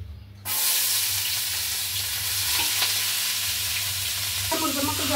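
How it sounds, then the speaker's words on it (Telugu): Onion pieces fry in a pot as the base for a chicken curry with raw cashews, making a loud, steady sizzle and hiss close by. The sizzle starts abruptly after a short quiet moment and continues without talk. "ఉల్లిపాయ ముక్కలు బాగా మగ్గుతున్నాయి."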